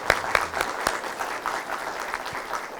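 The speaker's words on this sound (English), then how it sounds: "she deserves a round of applause for being a gold medalist winner" A round of applause from a modest audience, with a few loud, distinct claps at the start settling into softer, steady clapping that carries on throughout.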